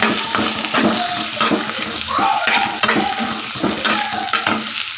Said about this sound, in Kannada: ಒಂದು ಮೆಣಸಿನ್ಕಾಯಿ ಹಾಕ್ಕೊಂಡಿದ್ದೀನಿ ನಾನು ಫ್ರೈ ಮಾಡಿ